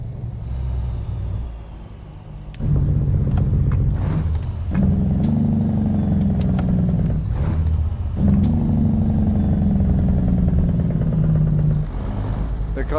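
Truck with a C15 engine in American Truck Simulator, a loud deep rumbling drone that rises and falls as it revs through gears, with brief shifts and clicks, continuing steadily for the whole stretch.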